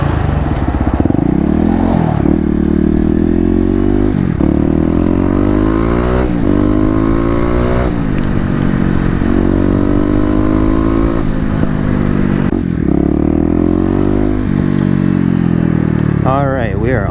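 An older Kawasaki KLX250 dirt bike is ridden on the road toward a highway. Its engine drones loud and close with rising revs and gear shifts, and the rider talks over it.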